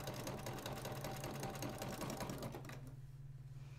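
Sewing machine stitching across a quilt seam while piecing half-square triangle, hourglass and combination units, a steady close whirring hum that runs continuously, then settles to a lighter steady drone near the end.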